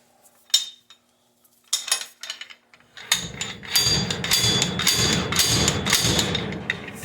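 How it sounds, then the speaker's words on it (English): Cheap slide hammer with a hook pulling a stubborn axle from a 1957 Chevy rear end in a 1955 GMC truck: a few scattered metallic clanks, then a steady run of repeated sharp metal impacts and rattling, close and loud. "Just a cheap little old slide hammer I've had forever with a little hook on it"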